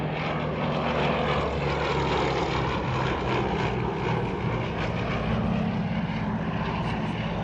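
Vintage propeller aircraft at a Shuttleworth Collection air show, a steady loud droning engine and propeller sustained throughout without talk.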